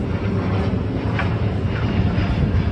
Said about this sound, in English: Oh, check out this plane taking off.